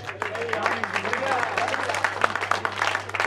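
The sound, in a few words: audience applause for the sound engineer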